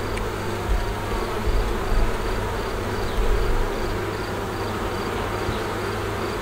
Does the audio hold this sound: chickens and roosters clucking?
no